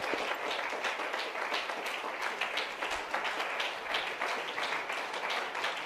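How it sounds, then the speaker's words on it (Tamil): Church congregation applauding during a New Year service, a sustained patter of many hands clapping at moderate distance that stays fairly even throughout. "இந்த பிள்ளைக்கு நல்லா ஒரு நல்லா கைதட்டு கொடுங்க."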